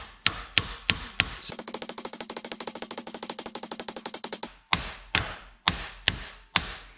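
A hammer taps on the metal yoke of a tractor PTO shaft, a few single strikes, then a fast steady burst of ringing taps, then more spaced single blows.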